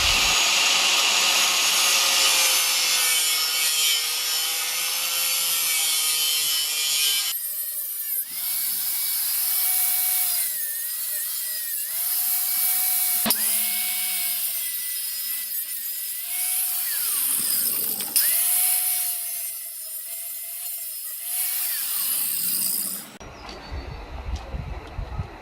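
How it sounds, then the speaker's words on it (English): Power tool cutting a tank cover pattern for a Yamaha XJ600 motorcycle, a loud, high whining drone with shifting pitch running almost continuously, pausing briefly and changing tone several times before stopping near the end. "first attempt at cutting out the pattern."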